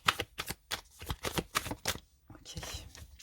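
Tarot cards shuffled and riffled by hand, a rapid run of crisp flicks and slaps up close, ending in a longer shuffle and a final card set down.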